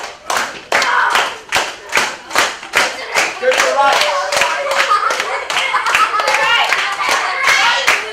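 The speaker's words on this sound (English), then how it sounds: "This time everyone else is going to clap." A group claps along in steady rhythm during a simple left-right dance, sharp evenly spaced claps close by, with an adult voice calling out moves and children's voices mixed in.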